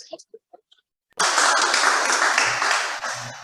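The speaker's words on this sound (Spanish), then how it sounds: "Fuerte aplauso." A classroom of students bursts into sustained applause for a volunteer coming to the front of an oratory class, loud dense clapping that starts abruptly after a quiet moment with brief speech and continues steadily.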